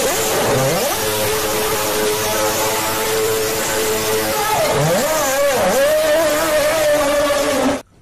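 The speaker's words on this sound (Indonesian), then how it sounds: "Ini mobil F1." Toy F1 race car engine sound revving, a loud buzzy whine that sweeps up and down in pitch several times, rising then dipping mid-clip before cutting off abruptly at the end.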